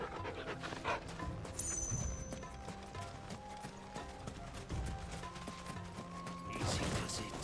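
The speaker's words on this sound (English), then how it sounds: "What a fine hound." A dog panting in Final Fantasy XVI, with soft rapid breaths and a few footstep clops under game music, ambient tones and scattered mechanical sounds.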